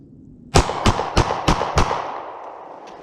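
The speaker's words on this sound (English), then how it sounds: "5 shots, rapid fire." Five rapid pistol shots from a Smith & Wesson M&P Shield handgun at a shooting range, sharp loud cracks spaced evenly about a third of a second apart, each ringing out into a short decaying tail after the last shot.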